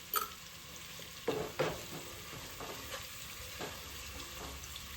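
Sliced onions, green chillies and curry leaves frying in a pan, browning in hot oil with a steady soft sizzle broken by a few scraping stirs of a spoon against the pan.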